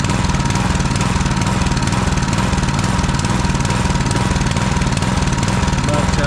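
Duramax 212cc bi-fuel small engine running on propane from a barbecue bottle, a loud, close, continuous rough chugging with a steady rapid firing pulse throughout.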